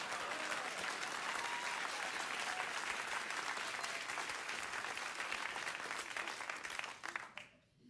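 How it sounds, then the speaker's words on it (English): A late-night talk show studio audience breaks into sustained, dense applause that holds steady for several seconds before tapering off abruptly at the end. "So a round of applause"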